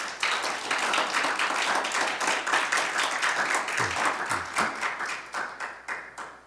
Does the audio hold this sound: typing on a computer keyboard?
no